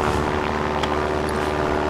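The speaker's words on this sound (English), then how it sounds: "the plane accelerates so much that he shouldn't be able to catch up to him at all" An airplane engine under heavy thrust in the video game Far Cry 4, a loud steady propeller drone with a sustained tonal hum and faint higher clicks, close and continuous with no talk.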